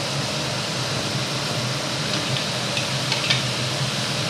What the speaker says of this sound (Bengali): মশলা থোড় ভাজা ভাজা চলছে